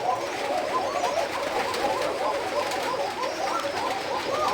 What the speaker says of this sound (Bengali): এই সবগুলোই কিন্তু আমার হচ্ছে কোকা কবুতর